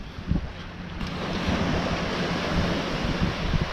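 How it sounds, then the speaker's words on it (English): Ocean waves at Clearwater Beach, Florida, wash and rumble continuously over churned-up water, mixed with gusty wind buffeting the microphone, fairly loud and close. "the water looks a little churned up, a little bit wavy, not bad"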